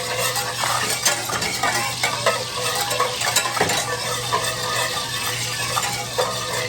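Butter browning in a wide pan gives off a steady, close crackling sizzle with light stirring and scraping throughout, and no voice over it.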